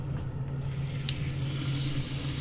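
Cold water running from an old faucet into a basin, fitted with the wrong washer: a steady, close hiss and splash with a low hum beneath, continuous and unbroken.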